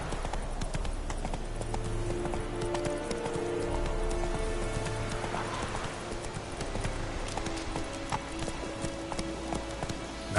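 Hooves of the horse Roach clip-clop steadily as it gallops in The Witcher 3, a continuous rhythmic pounding with a faint whinny, heard alone with no talk over it.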